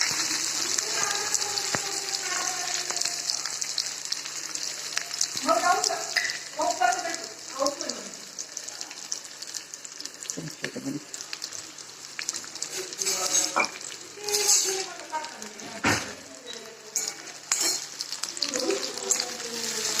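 Onions fry in a spiced oil tempering in a pot for a potato-onion curry, giving a steady hiss under scraping, stirring strokes and occasional utensil clinks, with someone talking intermittently over the cooking.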